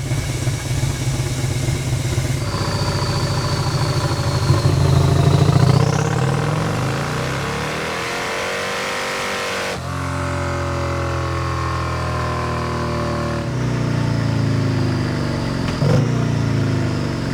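Harley-Davidson Street Glide motorcycle being tuned on a dyno for 200+ horsepower, loud close engine holding high revs through sustained pulls, with pitch rising and dropping between runs.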